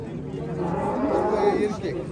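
Cattle lowing at a livestock market, drawn-out moos rising over a steady background of crowd murmur and nearby talk.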